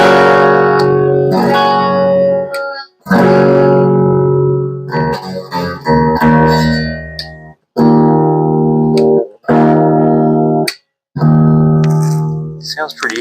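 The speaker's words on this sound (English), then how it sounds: "I just have this hooked up to my little" A 1995 Gibson Les Paul Studio electric guitar is played through a small bench amp. Strummed chords ring out loud and close in several bursts separated by brief silences.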